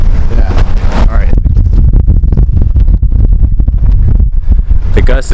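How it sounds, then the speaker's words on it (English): A strong wind gust buffets the microphone on a mountain trail on Deadman's Path, loud rumbling roar with bursts of flutter throughout, heavy and close. "The gust is back."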